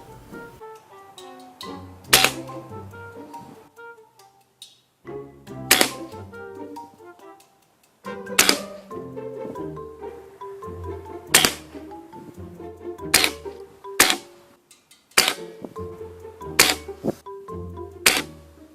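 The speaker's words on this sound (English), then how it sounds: "Now, I was shooting a new type of pellet." An air gun fires a new type of pellet with a shooting mount attached, giving sharp, close cracks spaced a second or two apart over a steady tonal background.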